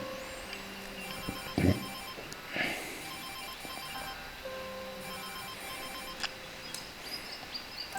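A phone ringing for a call in the video game Perseverance, a steady repeating electronic ring over a busy background with faint bird-like chirps and a brief thump, no talking.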